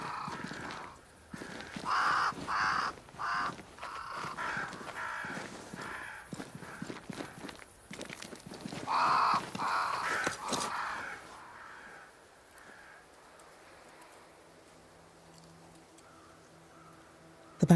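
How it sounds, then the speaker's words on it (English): Several crows caw in repeated bursts in the video game Banishers: Ghosts of New Eden, loud at first then fading, over horse hoof clip-clops and footsteps in an outdoor scene. "crows. They flock to that great tree up there."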